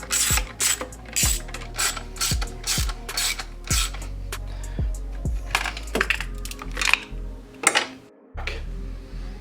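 A ratchet tightens a bolt on a multi-port injection intake manifold on an MK7.5 Golf R, making steady repeated clicking strokes close by, with a few metallic clinks near the end.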